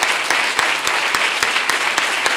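A crowd at a political campaign closing rally in Seville applauds steadily, dense clapping with a few sharper claps standing out, loud and sustained without any talking.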